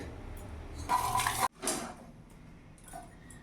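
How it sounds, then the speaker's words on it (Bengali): A metal lid clatters onto a cooking pan holding a fish-head and spinach-stem stir-fry, a short bright clank with some rattle, then a sharp thud as it settles, followed by a quiet kitchen hiss. "এবার কিছুক্ষণ আমি ঢাকা দিয়ে দেবো।"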